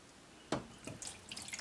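A few quiet, scattered water drips fall off a rock one after another, with soft splashes and near silence between them.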